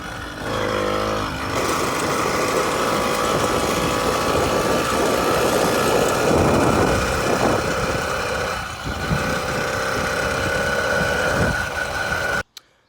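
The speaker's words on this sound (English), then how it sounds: "As the motor is perking up, do not apply too much throttle." A small motorized Granite Peak bicycle engine runs steadily and loudly for several seconds, its buzzing drone rising and falling slightly with throttle before cutting off abruptly at the end.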